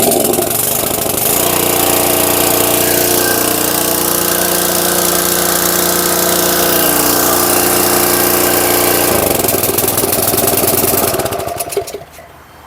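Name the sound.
pressure washer engine starting after carburetor replacement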